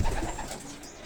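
Young racing pigeons coo softly inside a loft, a short murmuring burst that fades quickly, with no voices.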